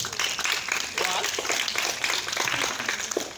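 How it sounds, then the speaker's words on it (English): Audience clapping at a school debate on whether books are better than movies, a steady wash of many hands filling the space, moderately loud and continuous, with voices mixed into it. "Let's clap in."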